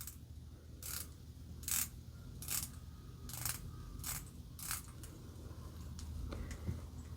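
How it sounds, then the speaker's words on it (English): Rotating dive watch bezels on a Seiko SLA037 and a Seiko SPB149 click as they turn, producing a series of about eight crisp, evenly spaced ratcheting bursts, very close and quiet against faint background noise with no speech. "let's compare the bezel action"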